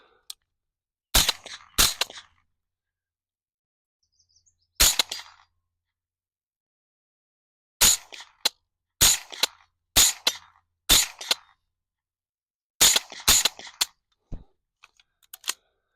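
Suppressed rifle shots through a Silencer Co Omega 300 can, fired outdoors into dirt: about a dozen sharp, loud reports in irregular clusters separated by silent gaps, each with a short crack and brief decay, no talking.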